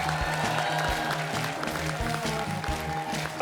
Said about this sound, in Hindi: वो हाथ छोड़ के तालियां बजा सकते हैं